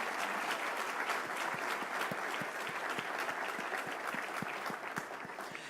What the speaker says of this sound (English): Please give Linda Glusing another round of applause for her wonderful rendition of the national anthem.